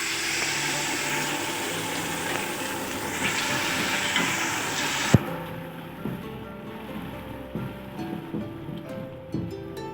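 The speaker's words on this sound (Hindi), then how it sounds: "अब इसमें पानी जाएगा 1/2 कप" Half a cup of water poured into sugar cooking in hot oil for a sweet zarda rice dish. A loud, hissing sizzle surges for several seconds, then drops off abruptly to quieter bubbling with scattered clinks.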